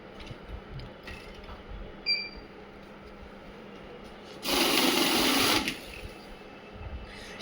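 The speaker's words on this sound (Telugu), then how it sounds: "అందుకని మనం దీన్ని సెమీ వాల్యూ కౌంటింగ్ మిషన్ అంటాము" A Gobbler semi-value cash counting machine riffles a stack of banknotes in one loud, dense whirring burst lasting just over a second, set against quiet background hum.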